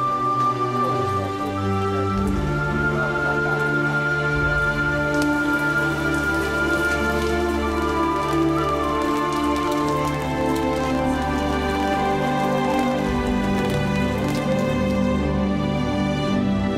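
Rain falls steadily on surfaces outdoors during a spring trip in Croatia, a dense, continuous patter that stays loud and even throughout, with no voices heard.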